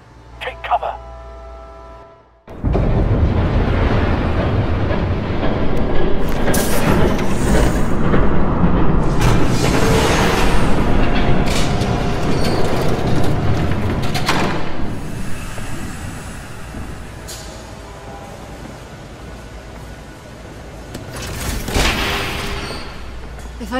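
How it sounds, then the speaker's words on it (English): A train thunders past in the Batman Telltale video game, a loud, sustained rumbling roar with heavy bursts that swells after a brief quiet opening, then slowly fades and surges again, with voices faintly in the mix. "There's a train coming! Take cover!"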